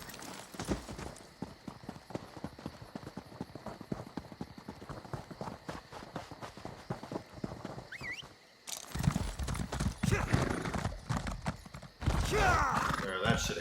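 Hooves pound in a fast, even rhythm as a horse gallops in Elder Scrolls Online; after a brief pause near the middle, louder rushing bursts of movement and effects follow, with no speech.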